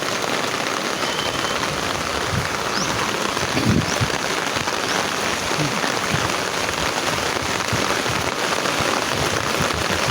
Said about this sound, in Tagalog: Yan, malakas po ang ulan.